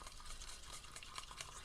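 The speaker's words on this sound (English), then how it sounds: "I'm stirring like a crazy woman" Thick clear pouring medium, Royal Talens extra thick, being stirred with paint in a cup, a steady close scraping and swishing with quick, irregular strokes and no talking.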